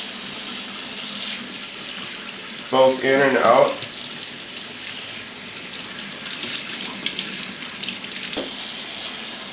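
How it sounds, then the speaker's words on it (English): Cold tap water runs steadily into a kitchen sink as raw chicken is rinsed, a constant soft rush with a brief louder splash midway and a short voice heard over it. "Rinse the chicken well, again, under cold water"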